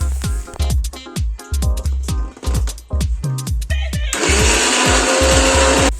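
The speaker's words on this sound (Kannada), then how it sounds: "ಕೊಬ್ಬರಿ ಮತ್ತು ಟೊಮೊಟೊನ ಜಾರ್ನಲ್ಲಿ ಹಾಕಿ ಸಣ್ಣದಾಗಿ ರುಬ್ಕೊಂಡು ಪೇಸ್ಟ್ ಮಾಡ್ಕೋಬೇಕು" A kitchen mixer grinder blends dry coconut and tomato into paste for chicken sambar, first in a rapid series of short whirring pulses, then running continuously with a loud, steady roar.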